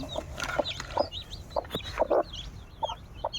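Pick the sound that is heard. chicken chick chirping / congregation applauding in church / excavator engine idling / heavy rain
chicken chick chirping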